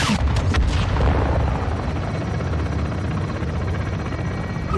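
Gunfire and heavy explosions during a Call of Duty: Modern Warfare 2 firefight, with a dense loud roar of blasts and rotor-like rumble, several sharp bursts at the start fading into continuous battle noise.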